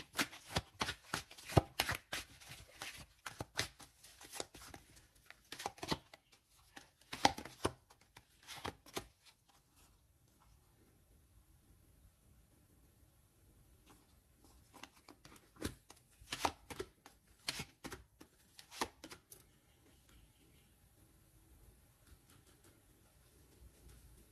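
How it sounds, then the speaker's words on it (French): Tarot cards are shuffled by hand in repeated bursts of quick riffling and slapping, with a quiet pause in the middle before another round of shuffling. "Je vais mettre une carte sur ce message, les amis."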